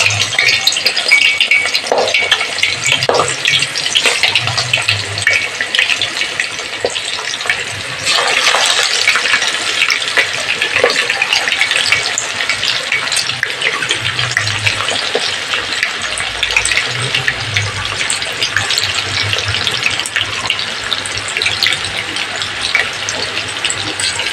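Chicken pieces frying in hot oil for a curry: a loud, steady, dense sizzle and crackle that runs throughout, with no talking.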